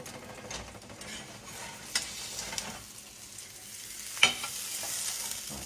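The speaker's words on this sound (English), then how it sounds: "now I'm going to slide this off into my pan" A cheese egg omelette slides into a frying pan, followed by a soft, steady sizzle with a few sharp scrapes and taps of the pan at close range, without any voices.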